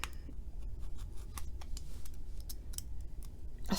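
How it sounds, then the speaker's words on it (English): Scissors or a blade snip and scrape at a package of trading cards, a series of short, close clicks and cuts over a low background hum, with no talking. "Hang on, let me cut this open too."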